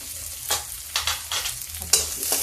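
Onion lightly sautéing in a pan over low gas, a continuous close sizzle broken by several scraping stirs at an uneven rhythm, with no voices.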